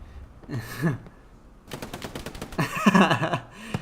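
Bursts of automatic machine-gun fire trade back and forth in a Hell Let Loose console match on the night version of the Foy map, with rapid rattling volleys, short pauses, and a heavier, louder exchange toward the end.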